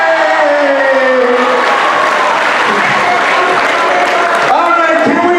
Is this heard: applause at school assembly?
yes